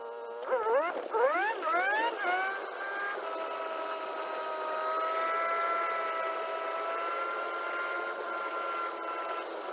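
A 1985 Mazda RX-7 with a swapped 13B rotary engine on the highway, revving up in quick rising bursts through the gears before settling into a steady, fairly loud cruising drone, with no talk.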